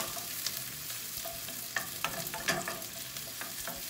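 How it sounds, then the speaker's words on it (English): Sliced onions sauté softly in a pan for a cheesesteak casserole, a quiet steady sizzle broken by occasional utensil scrapes and stirring clicks, close up with no talk. "we're going to saute these till they're just really nice and just falling apart soft"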